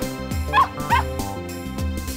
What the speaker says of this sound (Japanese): 遠吠えだろ、どうせまた。